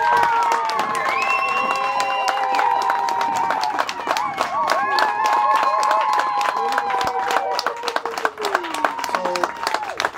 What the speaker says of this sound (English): let's give him a round of applause and welcome the next coming mayor of Midvaal, Mr. Councillor Peter Teixeira.